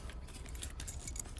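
Several car keys, a Ford remote key, another Ford key and two LDV keys, jangle together in a continuous bright metallic rattle, close up and fairly steady, with no voices.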